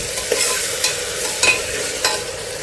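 Chopped tomato and other vegetables frying in a pan for masale bhat, a steady close sizzle broken by a few soft stirring scrapes, with no talk.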